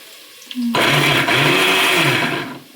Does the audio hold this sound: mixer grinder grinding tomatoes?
yes